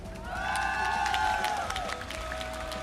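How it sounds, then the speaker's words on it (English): A crowd at an MPL Malaysia esports match claps and cheers from a distance, a brief burst of applause with some whistling, fairly faint. "Round of applause everybody."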